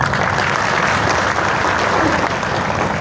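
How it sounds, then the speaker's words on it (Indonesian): Loud, sustained applause from a crowd at an Indonesian government event on small businesses, a thick, even roar of clapping filling the whole stretch. "tepuk tangannya."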